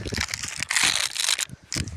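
A small plastic packet handled on a fishing trip, giving sharp, irregular crinkling and rustling bursts close to the ear, with brief gaps between them.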